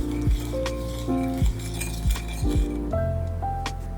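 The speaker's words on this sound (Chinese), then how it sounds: "然后搅一搅，把它们搅拌均匀" A utensil stirs dry yeast, sugar and salt in a bowl for bread dough, giving repeated clinking taps against the bowl in short bursts, close and fairly loud, with a steady hum underneath.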